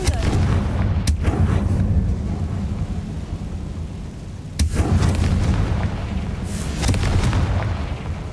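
Booming Confringo blasting-spell explosions from Hogwarts Legacy, a steady rumbling barrage of loud blasts with sharp bursts recurring through the scene and no talk.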